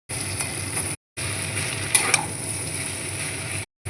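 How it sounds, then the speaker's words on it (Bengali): Vegetables for beetroot vegetarian chow mein stir-fried with salt in a pan, a soft steady sizzle with scraping stirs, cut by brief silent breaks and a couple of sharp clinks midway. "ভাজা হবে তারপর চাউমিনটা দিয়ে নাড়ব"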